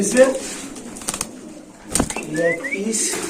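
Pigeons kept for sale, cooing and flapping their wings close by, with a sharp flutter near the middle, while people talk.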